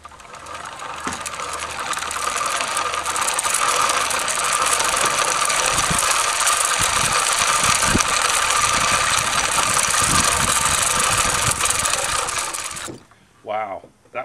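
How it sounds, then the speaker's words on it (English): A cart rolls down a homemade backyard Beer Me zipline, making a steady, loud mechanical rattling and whirring that lasts about thirteen seconds before stopping abruptly, with a few clunks along the way. "Even got to go for a ride down the kottage-tek Beer Me zipline."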